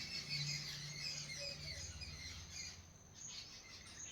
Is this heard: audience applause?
no